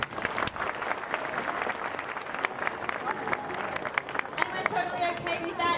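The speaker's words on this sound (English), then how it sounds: "Let's hear a round of applause." Audience clapping at a seal show at Taronga Zoo in Sydney, a dense, steady wash of many hands with crowd murmur underneath, lasting throughout.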